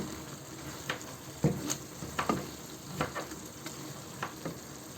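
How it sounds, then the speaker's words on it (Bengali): A spatula stirs and mixes a shrimp dish with lemon and pickle in a frying pan, steady sizzling running beneath several scraping strokes at an irregular rhythm, close and clear. "একটু নাড়া দিয়ে আমি এটাকে মিশিয়ে নেব"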